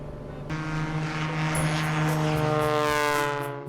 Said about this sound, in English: this takeoff starts with 10 degrees of flaps, jumping to 30 degrees of flaps during the takeoff roll